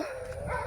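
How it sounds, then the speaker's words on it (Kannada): A single short dog bark, fairly close, heard alone against a quiet background. "ನಮ್ಮನೆ ನಾಯಿ ಎಲ್ಲ ಇಲ್ಲ ಅಂತ ಕೂಗ್ತಾ ಇದೆ, ಕೇಳಿಸ್ತಿರ್ಬೋದು ನಿಮಗೆ ಸೌಂಡು."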